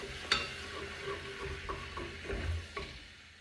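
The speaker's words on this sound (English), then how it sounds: "Once your butter's melted, add in your flour, and stir that into a roux." Flour being stirred into melted butter in a pan to cook a roux, heard as a few soft scraping strokes with a faint sizzle underneath, close by and fairly quiet, with no talking.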